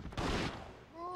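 A short loud burst of gunfire comes from a police officer character's gun in Biohazard Outbreak, played online. A brief sharp blast cluster is followed by a quieter lull, then a voice begins near the end.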